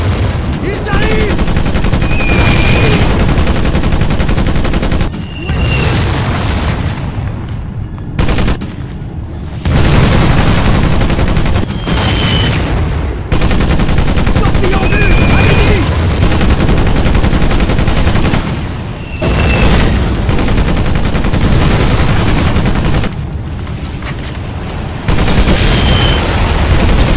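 Sustained machine gun fire in the Pacific war shooter Medal of Honor: Pacific Assault, loud and nearly continuous bursts with brief pauses, mixed with booms and other battle noise.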